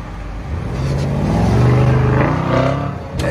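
A BMW 850 pulls away with its engine revving up in one rising, building roar that peaks and then eases off, loud and close, without speech over it.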